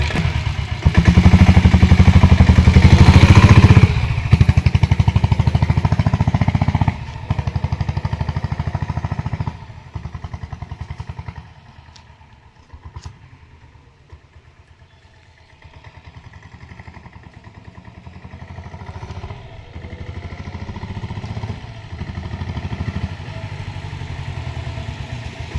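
A 1997 company diesel Bullet motorcycle with self start, two owners and in good condition rumbles with a steady low chugging thump as it is ridden, loud and near at first, then fading farther off before returning louder.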